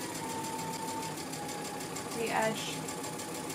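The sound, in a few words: sewing machine stitching along the edge of a pleated mask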